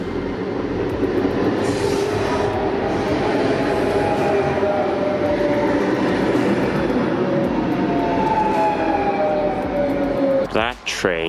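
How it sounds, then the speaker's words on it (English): A French train passing a rail yard in Luxembourg, a steady loud rumble of wheels and cars rolling by close for the whole stretch, with faint squeals and a speaking voice near the end. "That train's French."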